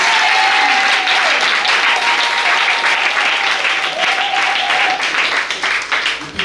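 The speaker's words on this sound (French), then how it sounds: "Acclame le Seigneur Jésus-Christ" A large crowd applauds loudly and continuously at an outdoor evangelization campaign in Yopougon, the clapping dense and unbroken, with a faint voice underneath.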